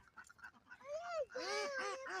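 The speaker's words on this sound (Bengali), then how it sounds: "এই লেকের পাড়ে এই যে হাঁসগুলো কি সুন্দর কিলবিল করে হেঁটে বেড়াচ্ছে" Nasal duck quacks rise and fall close by at a lakeside, a few calls running together after some faint chatter at the start.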